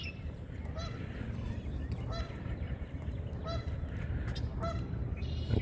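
Canada geese honk repeatedly outdoors near a lake with melting ice, several harsh two-note calls at mid distance over steady wind and ambient noise.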